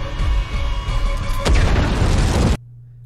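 In the movie Suicide Squad, a bomb detonates with a loud, deep boom and blast, followed by rumbling debris before it cuts off abruptly into near silence.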